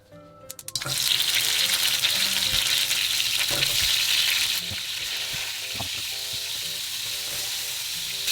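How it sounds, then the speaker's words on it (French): Tomato halves sear head-down in a hot frying pan, and a loud, close sizzle swells up after a brief clatter and then settles into a slightly quieter steady hiss. "Alors, ce qu'on va faire là tout de suite, c'est qu'on va les poêler."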